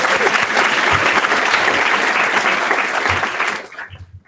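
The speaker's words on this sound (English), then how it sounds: "Let's give another round of applause to my colleagues." Loud, dense applause from a sizable crowd at an orientation event, sustained for several seconds before tapering off quickly at the end.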